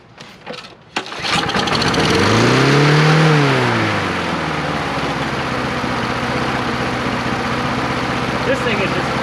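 John Deere JS63C push lawn mower with a Briggs and Stratton engine starts after a few pulls, revs up loudly, then settles into a steady, close running drone.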